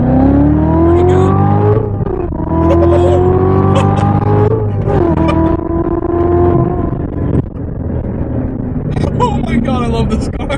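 A 2016 Corvette Z06 with a manual gearbox and Z07 package pulls hard in first gear. Its loud, rising exhaust note climbs through the revs, drops back at a shift, then swells again, close up inside the cabin with a voice talking over it.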